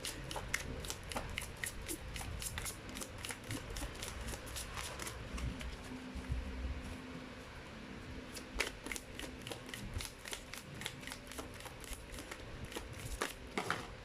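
Continuous shuffling of a large deck of cards, steady rapid riffling and flicking with sharp crisp snaps throughout, close and fairly loud, no voices.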